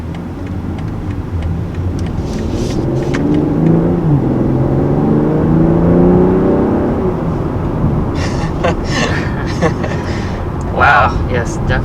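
A 2020 BMW M340i pulls away hard from a standstill, its engine rising in a loud sweeping roar through the gears, heard from inside the cabin, with people talking near the end.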